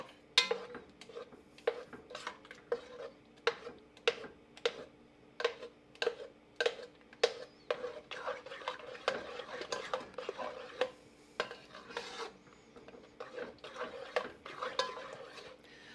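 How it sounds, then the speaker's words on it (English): Peach bourbon jam being stirred in a pot, with a steady rhythm of sharp spoon taps and scrapes against the pot, repeating about once a second, close and clear. "You want to make sure you're constantly stirring because you don't want to scorch it."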